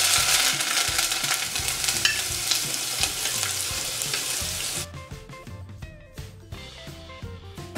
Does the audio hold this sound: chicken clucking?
no